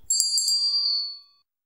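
A single bright notification bell chime rings out with a quick cluster of metallic strikes, then a clear ringing tone that fades out within about a second, alone and close.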